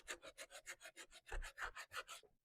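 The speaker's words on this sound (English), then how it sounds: "you can't get everything with the power sander, so I'll go back in by hand." Rhythmic back-and-forth rasp of hand sanding on wood after power sanding, about a dozen quick even strokes, close and fairly quiet.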